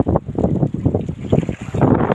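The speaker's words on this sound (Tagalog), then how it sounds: "Parang lumalakas yung hangin at saka yung ulan niya." Strong wind and rain buffet the microphone in loud, rough gusts, roaring continuously with a low rumble.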